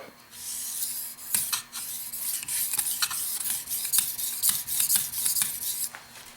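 A knife with a guide clip is drawn across a wet whetstone under steady pressure, making a series of close, rhythmic rasping strokes with brief pauses between them and no talk.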